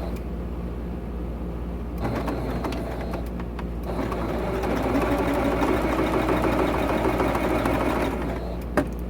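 Sewing machine stitching two quilt blocks together with a 1/4 inch seam, a steady close mechanical whir and rattle running throughout, briefly pausing near the two-second mark before resuming.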